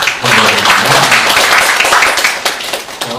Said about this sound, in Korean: 조선 원장님께 큰 박수 보내주시기 감사합니다.